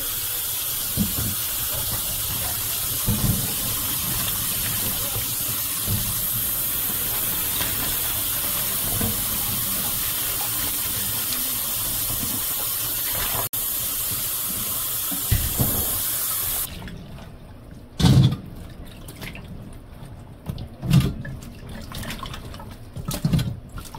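A tap runs steadily over ridge gourd (luffa) being washed, a continuous watery hiss for most of the time, then the flow stops and a few splashes and handling knocks follow, with no talk.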